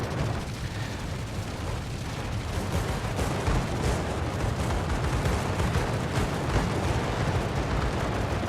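Explosions from a torpedo strike rumble in a World of Warships naval battle, a loud, continuous roar of booms and crackling blasts with no talk over it.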